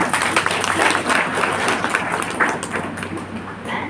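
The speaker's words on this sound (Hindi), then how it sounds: "ताली बजाओ" An audience applauds loudly, dense steady clapping from a large crowd that holds for several seconds.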